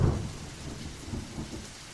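A thunderstorm with wind and rain opens on a low thunder rumble, then rain hisses steadily with soft gusting noise and faint distant rolls.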